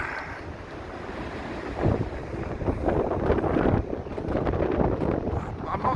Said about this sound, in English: I'm not sure if you can hear any of this, by the way, because the wind's so